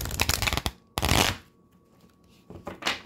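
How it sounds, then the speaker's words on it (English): Tarot cards are shuffled by hand in quick riffling bursts: a rapid flurry, a pause, a second longer riffle, then more flicks near the end, close and crisp with no talking. "I don't know why this deck does not want to shuffle."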